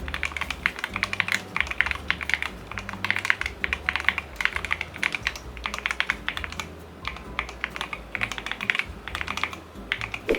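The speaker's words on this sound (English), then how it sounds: "And now let's do a typing test." Rapid, crisp keystrokes clack continuously on a small, cute-styled mechanical keyboard, close up, with brief pauses between bursts of typing and no talking.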